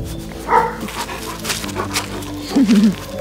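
An Alabai (Central Asian Shepherd) dog whimpers and whines in short high-pitched bursts, close by, with a brief yelp near the end and faint background noise.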